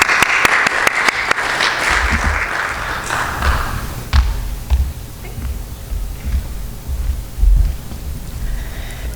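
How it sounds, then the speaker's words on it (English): An audience applauds at a public presentation on outdoor recreation planning, a burst of clapping for about two seconds that fades into scattered thumps and room noise. "Let's give her a round of applause."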